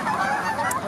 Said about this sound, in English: Okay, the birds are leaving.